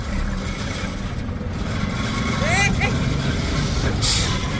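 Loud tanker truck engine rumbling steadily during a roadside recovery, with a sharp hiss of air brakes releasing near the end, while people shout in the background.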